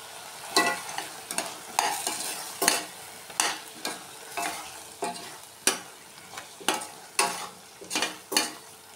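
Andhra-style drumstick gravy of blended tomato frying in a pan, a loud, rhythmic series of spoon scrapes roughly every second over a soft, steady sizzle.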